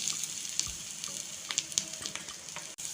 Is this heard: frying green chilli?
yes